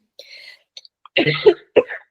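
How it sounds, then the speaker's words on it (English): A couple of close, harsh coughs in quick succession, following a few faint breathy sounds. "It's okay when I haven't got a microphone in my face and I'm coughing"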